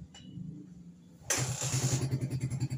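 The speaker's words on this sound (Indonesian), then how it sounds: "jadi nanti Bang Roy tes suara mesinnya" A Suzuki Satria FU 150 motorcycle engine, just after a valve clearance adjustment, cranks briefly, catches with a sharp roar and settles into a fast, even, pulsing idle close to the listener.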